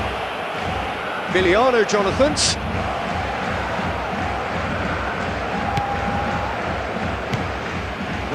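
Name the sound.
football stadium crowd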